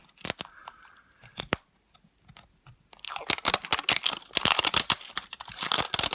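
Pokémon card packaging being pried open, with sharp plastic crinkles and clicks, first sparse and halting, then a dense, loud burst of crackling and tearing close by.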